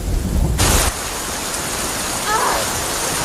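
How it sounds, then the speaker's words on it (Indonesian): Steady rain in a sea-survival setting, with a loud burst of wash or rumble near the start settling into a continuous hiss of falling rain; thunder is not clearly distinct. "Untungnya, sore itu pun sempat turun hujan."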